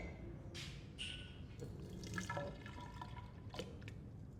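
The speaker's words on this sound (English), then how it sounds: "So I'm going to pour it into the first measuring cylinder." Liquid reagent being poured into a glass measuring cylinder in an engineering laboratory, a soft splashing and trickling pour with a few brief drips, quiet and close with no talk.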